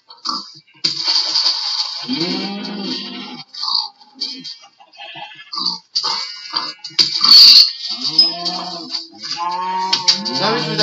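Cows mooing in the video game Minecraft, several drawn-out low moos repeating close together, one after another, with no talk.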